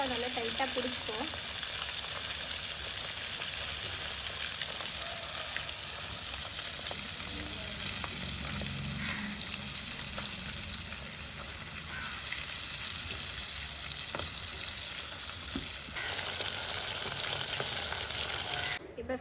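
Masala-coated fish frying in a pan, a loud, steady sizzle and crackle of hot oil that continues close up for the whole stretch.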